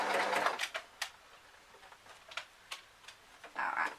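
A sewing machine stitching an elastic shoulder band onto a formal top, a short whirring burst at the start and end with scattered ticking clicks between, close and moderately loud.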